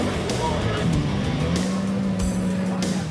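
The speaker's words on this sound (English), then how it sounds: "A happy Michael Schumacher driving his car back to the Parc Fermé." A Formula One car at the 1994 Canadian Grand Prix drives slowly back to parc fermé after the race, its engine droning steadily with a low hum and occasional revving under a commentator's voice.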